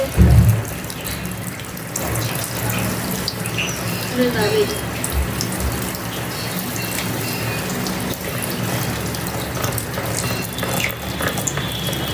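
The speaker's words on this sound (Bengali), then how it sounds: "এই যে দেখেন চুল কিন্তু ধুয়ে দিচ্ছে" Water runs steadily from a salon sink tap while hair is rinsed at a beauty parlour, a continuous close splashing hiss with faint background voices.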